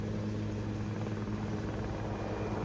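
A helicopter at the Tawang helipad in wintry Arunachal Pradesh gives a steady, droning rotor and engine roar, continuous and fairly loud throughout, with no talking.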